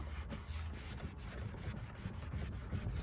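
Steady, gritty rubbing of Turtle Wax compound against an oxidized 1999 Volkswagen Beetle headlight, a close, continuous scratchy friction with quick back-and-forth strokes and no talk.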